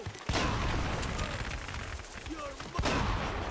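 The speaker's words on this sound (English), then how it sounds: "immediately throw my grenades to kind of keep these guys occupied while I can close the distance and shoot them with the shotgun" Grenade blasts and shotgun fire in Uncharted: Drake's Fortune Remastered make loud, dense gunfire bursts, with sharp reports at the start and again near the end over a continuous roar of combat.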